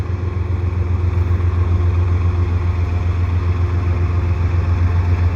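ES44 diesel locomotive running mid-train in a CPKC eastbound intermodal at Dorval, giving a steady, loud low engine drone that holds evenly throughout with no voices.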